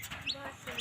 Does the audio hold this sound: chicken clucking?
yes